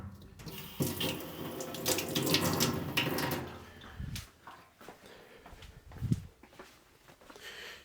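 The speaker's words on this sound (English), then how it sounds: "So I'm just going to wet my sponge." Water from a tap runs steadily to wet a soldering sponge, a loud hiss and splash for about four seconds, then stops, leaving faint handling clunks.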